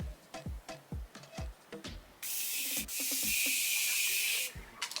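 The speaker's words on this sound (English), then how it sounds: "So I'm gonna take this and just spray it all over my face really quickly." Hydrating setting spray misted over the face in two close, loud hissing bursts, the second long and steady, following a stretch of quiet handling and tapping sounds.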